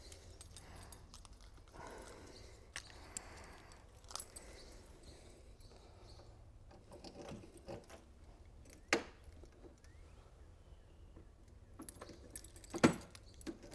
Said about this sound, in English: I got to figure out which key opens the door.